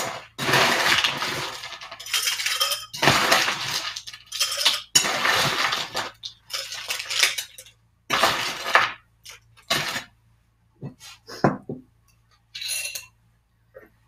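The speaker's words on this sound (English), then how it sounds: "So we're going to start with our glass as we do and add some ice." Ice is dropped into a cocktail glass for a long drink, with a series of loud clinking, rattling bursts of cubes against glass, broken by short pauses, close and without talk.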